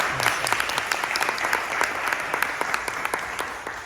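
Warm audience applause for an honoree at an evening gathering, a lively patter of many hands with crisp individual claps poking through, steady and fairly close for the whole stretch.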